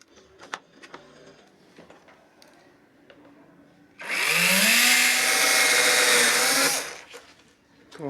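A power drill bores holes for a button and a DC socket in a homemade water cooler, one loud steady burst of about three seconds, with quiet handling noises and brief speech around it.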